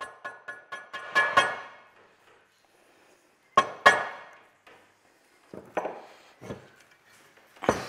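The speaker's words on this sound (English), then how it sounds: "Especially here with the nylon hammer. Definitely being careful there, knocking the new seal in." A nylon hammer knocks a new seal into a Toyota 60 Series gearbox during a gearbox and transfer case rebuild, giving a quick run of sharp close knocks, then a few heavier isolated blows with pauses between them.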